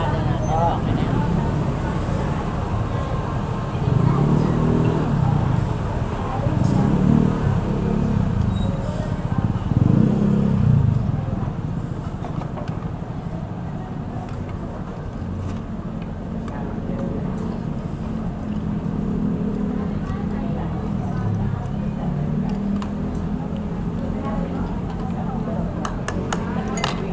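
Dense road traffic in the Philippines, a continuous low rumble of passing cars and engines with louder swells in the first half, heard under intermittent conversation.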